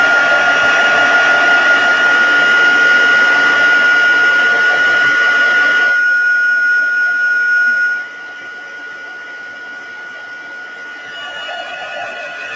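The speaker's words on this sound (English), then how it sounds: "So with my heat dryer, excuse the noise." Heat dryer blowing hot air over inked craft card, a steady loud whooshing whine that runs continuously, then drops to a quieter hum partway through.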